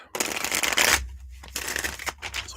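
Tarot cards shuffled by hand in a burst of rapid riffling, a dense papery flutter close up, then several shorter shuffling bursts with brief pauses between them.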